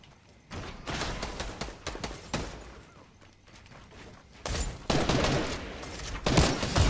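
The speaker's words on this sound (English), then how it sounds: "How is he giving all those shots to me?" Volleys of gunshots crack out in a Fortnite Battle Royale match, loud and close, with dense bursts of fire, a quieter lull midway, then renewed rapid shooting and impacts.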